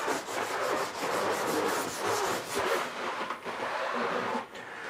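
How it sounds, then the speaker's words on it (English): Steady, continuous sanding across an old wooden coffee table, a rough abrasive rubbing back and forth in unbroken strokes, close and moderately loud with no talking. "Sanding does not end."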